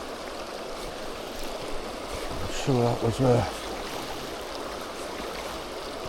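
Fast water rushes steadily on the River Tweed at the Yair beat, a constant close roar throughout, with someone speaking briefly midway over it.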